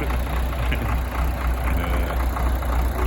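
An MTZ-80 tractor engine idles steadily, a continuous low rumbling drone heard close and without talk.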